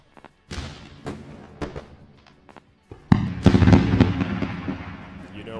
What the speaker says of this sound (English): Let's go for a round of fireworks.